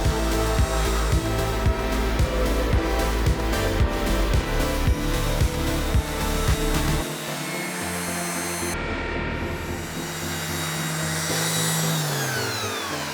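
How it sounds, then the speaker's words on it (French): A power sander works oak with 240-grit sandpaper, first in a run of loud rhythmic grinding pulses, then as a steadier whirring hum that winds down near the end. "on va affleurer avec la ponceuse déjà le champ et tout ce qui est extérieur"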